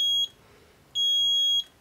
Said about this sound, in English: So I've just attached my switch to a multimeter in continuity mode, which means when there's a contact it will beep